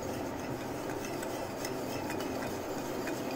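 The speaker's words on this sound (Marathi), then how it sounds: "हे आपण चांगलं फेटून घेऊया." Cake batter of sugar and milk for an eggless maida cake is whisked in a bowl, a soft continuous scraping and swishing at low volume with no speech.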